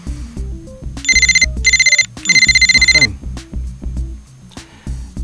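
A telephone rings in several bursts of bright electronic trilling, set against a background music bed, loud and close.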